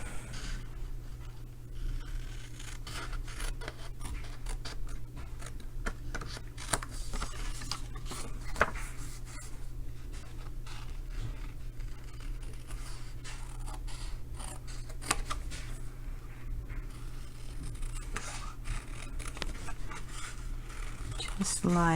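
Scissors snip through a paper shape in a papercraft card-making session, soft irregular cuts repeating steadily over a low background hum, fairly quiet and close.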